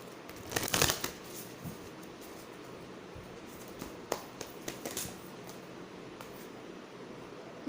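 A deck of tarot-style cards is riffled in one quick, brisk burst near the start, followed by a few faint soft clicks and rustles against a quiet background.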